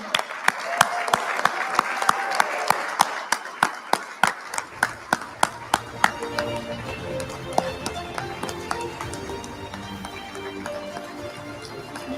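A crowd at the Significant Sig Awards ceremony applauds, with loud, sharp individual claps close by over a fuller wash of clapping that thins out and fades over about twelve seconds.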